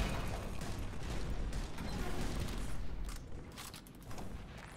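Turrets firing in the sci-fi shooter Destiny 2, a dense continuous clatter of rapid shots and mechanical booms filling the space, steady and loud before easing slightly toward the end.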